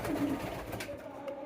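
Pigeons on a pigeon farm give a brief, soft burst of low cooing, heard quietly and alone.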